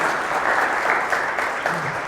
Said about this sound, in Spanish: ¿Cuántos le dan un aplauso fuerte a Jesús por eso?